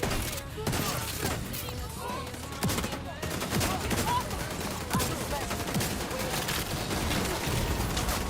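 Automated turrets in The Division 2 fire dense, continuous bursts of gunfire through the whole stretch. The rapid, overlapping shots stay loud and close, mixed with other game effects.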